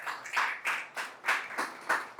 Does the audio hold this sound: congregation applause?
yes